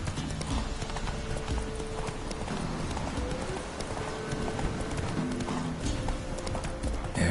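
Horse hooves clip-clop steadily in The Witcher 3 video game, a close, continuous trotting rhythm with busy game ambience running underneath from start to finish.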